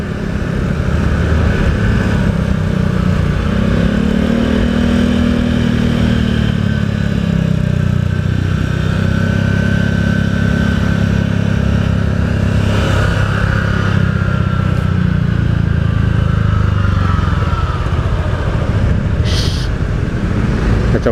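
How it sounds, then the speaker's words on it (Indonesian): A Honda Vario motorcycle rides along a road, its steady engine hum and rolling road noise continuous and close, with the engine pitch rising and falling slightly over the ride and no talking. "ini saya pakai motor Vario ya teman-teman"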